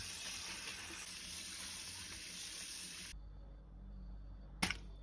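Tap water runs steadily and strongly while anchovies are rinsed in a kitchen sink, then cuts off into near quiet that is broken by a brief splash.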